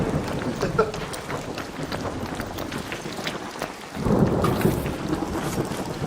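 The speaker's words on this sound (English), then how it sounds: "You good with that lightning strike, man?" Thunder and steady rain from a lightning strike in the video game ARC Raiders: a constant loud wash of rain with a deep rumbling swell about two-thirds through.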